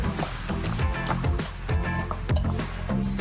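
Hands squish and knead a mashed potato aloo tikki mixture with about a teaspoon of soy sauce, giving repeated wet, sticky squelches at close range.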